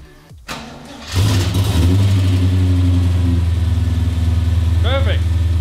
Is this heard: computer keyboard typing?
no